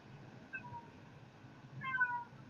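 A pet cat meows twice to be let out, a short cry followed a second later by a longer, more insistent one, faint and somewhat distant over a low room hum.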